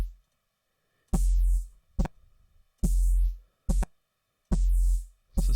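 Heavy neuro bass stabs in Ableton, each run through a notch auto filter being swept: loud, close synth hits in short repeated bursts with a moving, hollow whooshing tone between brief silences.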